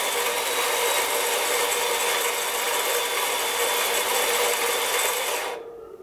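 A Quick Mill Apollo electronic coffee grinder runs with a loud, steady, gritty whir for several seconds, then cuts off abruptly near the end.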